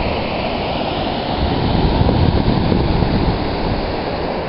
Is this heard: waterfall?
yes